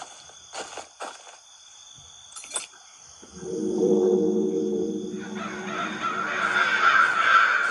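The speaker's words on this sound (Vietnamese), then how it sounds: "Tiếng quạ kêu rất là nhiều luôn." Crows cawing in a horror video game, first as a few scattered separate caws, then a thick, continuous chorus of calls swelling louder over a low droning ambience, with no talking.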